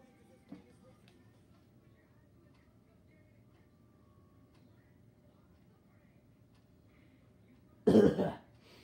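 A quiet room with faint background hum, then a single sharp cough bursts out near the end, close and loud.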